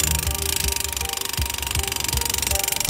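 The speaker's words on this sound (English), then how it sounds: "as we're drilling in these steel stakes, they are running into this very thick concrete" Steel stakes being driven by a powered hammer drill into very thick concrete at an outdoor event setup, a loud continuous rapid hammering with a heavy rhythmic pounding, close and alone.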